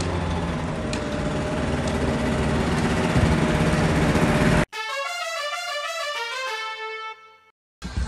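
Outdoors, a Yamaha Vino moped fitted with a big bore kit buzzes loudly as it rides, then its small engine revs up and down in rising, falling tones before cutting out briefly.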